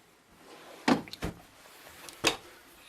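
Drawers in the kitchen of a 2019 Salem Hemisphere 378FL fifth wheel RV, on full-extension ball-bearing guides, slide and bump shut in three short, close knocks with no talking.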